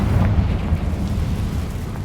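A Confringo fire spell blast in Hogwarts Legacy, a loud rumbling, roaring explosion that fills the moment with deep sustained boom and crackle, no voices over it.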